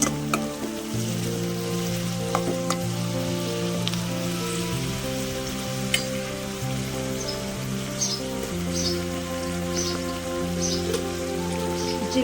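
Onion pieces and green chillies frying in oil in a pan for a cabbage and chana dal curry, a continuous rain-like sizzle with scattered pops over a soft musical backing.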